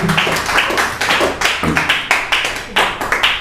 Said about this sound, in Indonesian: Oke, beri tepuk tangan untuk Imen.